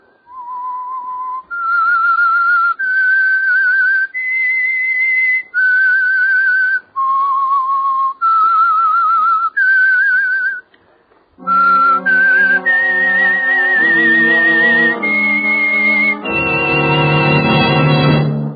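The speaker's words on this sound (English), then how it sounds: "That whistle is your signal for the Signal Oil program, The Whistler." A lone human whistler carries the eerie, wavering theme of the old radio mystery program The Whistler, a slow sequence of sustained notes, then a full orchestra swells in underneath to finish the melody.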